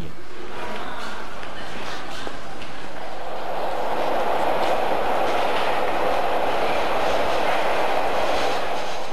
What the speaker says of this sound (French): nous découvrons le métro de Pékin, qui ne comporte que 2 lignes